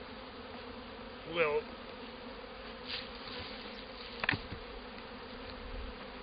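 Honey bees buzz steadily around a hive entrance during spring, a dense low hum with a few louder individual bees passing close, and brief faint speech in the background.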